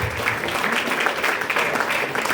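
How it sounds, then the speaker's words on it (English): An audience at an awards and scholarship event applauds, with a dense, steady patter of clapping throughout. "she'll give her a round of applause even though she's not here"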